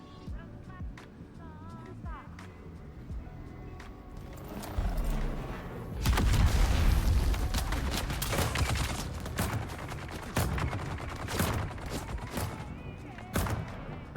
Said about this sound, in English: My turret, I don't know what kind of round that shoots, but it does shoot apparently something